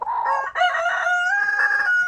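A Rhode Island Red rooster crows close and loud in one drawn-out call, with a brief clucking start, from chickens kept as conditioned breeders.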